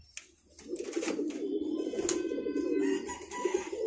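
A roller pigeon coos close by in a loft where the birds sit on eggs, a steady, throaty rolling murmur that carries on for several seconds with a few brief higher chirps at the start.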